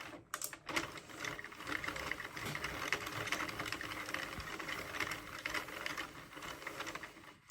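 An Addi or Sentro circular knitting machine cranks out rows of yarn on its pins, producing a continuous close clicking and ratcheting rattle with rapid regular ticks, loud and alone.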